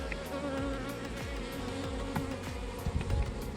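Honeybees from a late-summer August swarm buzzing in a dense, continuous drone, close and steady, with occasional louder passes as individual bees fly near.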